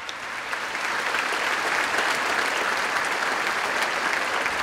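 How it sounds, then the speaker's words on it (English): Audience at a high school commencement applauding steadily, a dense wash of many hands clapping that builds after a moment and holds loud throughout, with no talk over it. "Let's give these very important people a round of applause."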